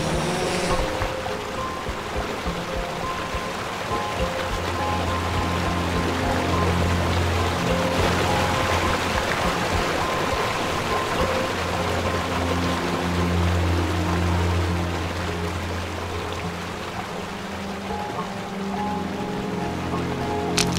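Continuous rushing of a mountain river in North Bengal, water pouring over rocks close by in a steady, full wash of sound, with a faint low hum underneath and no talking.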